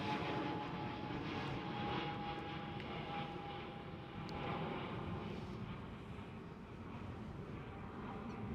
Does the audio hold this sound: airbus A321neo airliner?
yes